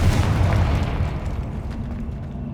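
Confringo fire spell exploding in Hogwarts Legacy: a loud, close blast with a deep rumbling boom that gradually fades over a couple of seconds.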